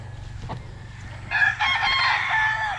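Roosters crowing at a gamefowl farm, one crow starting partway through and ringing out loud and close over a quieter farmyard background with faint clucking before it.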